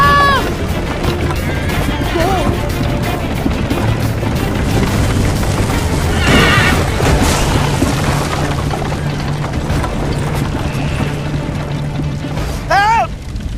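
A horse in the Assassin's Creed III Liberation video game whinnies several times, loud and close, over rumbling hoofbeats and action noise, with shouting voices in between.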